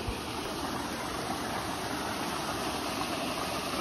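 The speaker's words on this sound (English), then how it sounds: "Little waterfall here." Small waterfall on a stream, a steady broadband rush of falling water that stays constant and fairly loud throughout, with no voices over it.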